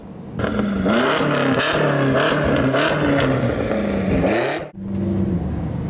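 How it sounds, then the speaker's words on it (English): A BMW X6M fitted with a Manhart exhaust accelerates hard through rising engine pitches with gear shifts, a loud close roar that briefly drops out before revving again, with no voices. "900 Newton meters of torque. Oh, this pushes. A massive carbon package. Super loud."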